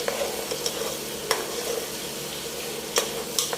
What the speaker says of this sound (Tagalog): Lagyan natin ng isang buong butter. Yan. Gawin natin ang konting golden brown ng ating garlic.